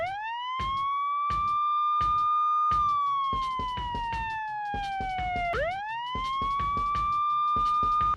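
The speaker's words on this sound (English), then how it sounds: "now we're spreading the siren across 4 bars of music instead of the 2 that we had earlier" A police car siren wails in long rising and falling sweeps, loud and continuous, stretched across four bars of music with a steady drum beat pulsing underneath.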